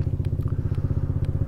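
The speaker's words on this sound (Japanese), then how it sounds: "ホンダのズーマー X ですね。" A Honda Zoomer X 110cc fuel-injected scooter engine idles close by with a rapid, even low putter and a few faint clicks and taps over it.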